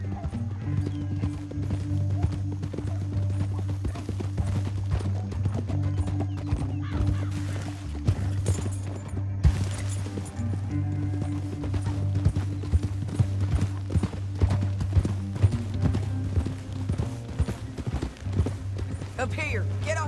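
Rhythmic clip-clop of galloping horse hooves in the video game Red Dead Redemption 2 runs throughout under a low drone, with occasional louder hoof strikes and a brief whinny.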